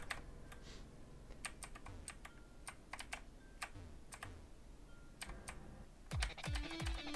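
Arrow keys on a computer keyboard tapped in quick, irregular clicks, faint and close, during a Pokemon Reborn game, with a few soft electronic tones near the end.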